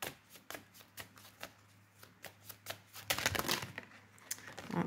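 Astrological cards being shuffled by hand, a run of crisp separate riffles and flicks, then a louder, denser rustle of cards near the end.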